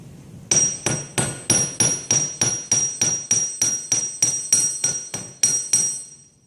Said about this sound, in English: when you're doing this, you hit in the same place and you move the metal